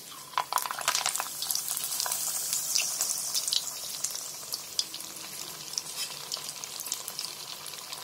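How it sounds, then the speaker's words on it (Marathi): Crispy fingers drop one at a time into hot oil, setting off a steady, dense frying hiss with bubbling crackle throughout, close and continuous. "तेल तापलाय. आता त्याच्यामध्ये आहे ना, एक एक करून सोडते."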